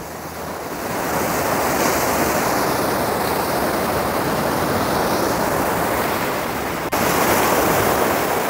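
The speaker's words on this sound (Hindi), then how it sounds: "आवाज़ सुने सिर्फ पानी की।" Sea waves wash onto a beach in Oman, a broad, steady surf roar that swells in after a quieter start and holds on, with wind buffeting the microphone.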